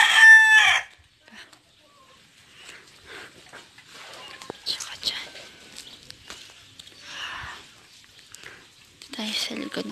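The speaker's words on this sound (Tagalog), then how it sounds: "Ayan, ang daming manok." A rooster crows loudly at the start, followed by scattered clucking and distant calls from chickens, with another crow near the end.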